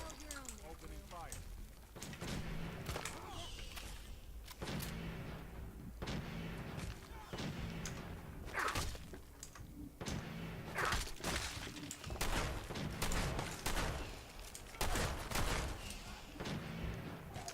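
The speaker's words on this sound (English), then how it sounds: "Opening fire." Gunfire in the Fallout video game, repeated sharp shots in irregular bursts with short pauses between volleys, a voice talking between the shots.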